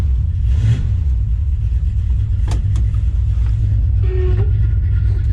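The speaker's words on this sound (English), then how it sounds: "That's power steering pump, don't worry about that." A warmed-up hot-rod engine idles steadily with a deep, rumbling low end and a nice lope, while the power steering pump adds a faint whine that briefly rises near the end, with a few clicks over the constant drone.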